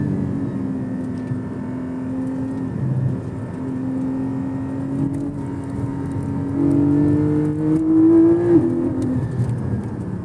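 A Porsche Cayman engine hums steadily, then revs up with rising pitch before settling, heard from inside the car with no talking.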